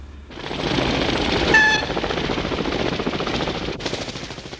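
Military helicopter during NATO maneuvers in West Germany as Marines simulate helicopter assaults, a loud, dense rotor and engine roar with rapid chopping pulses, close and sustained throughout with no talk.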